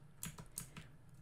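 Someone types on a computer keyboard, with several soft, quick key clicks in an irregular rhythm, close but faint, with no talking.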